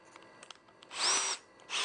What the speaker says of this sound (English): drill pilot holes for these because this part's going to be seen